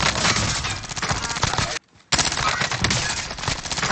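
PPSh submachine gun fire in Call of Duty Warzone: loud, dense automatic bursts that keep going for nearly two seconds, break off into a short silence, then come back just as heavy.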